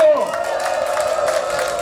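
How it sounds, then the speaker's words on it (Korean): Gathered residents at a community protest rally applauding and cheering after a group introduction, a brief dense burst of crowd noise with a held tonal sound running through it. "박수."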